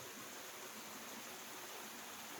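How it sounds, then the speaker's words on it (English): The waterfalls on Two Mile Creek give off a faint, steady rushing hiss of falling water, continuous and even, with no voices over it. "But check out these waterfalls."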